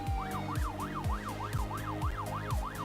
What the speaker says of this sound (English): sirens match the European or North American theme of your city